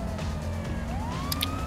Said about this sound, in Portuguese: A gente saiu até com a sirene ligada.